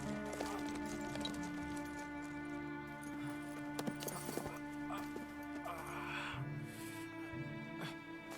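Horse hooves gallop in Red Dead Redemption 2, a steady rapid clip-clop beneath ambient game sound and a short whinny, moderately loud throughout.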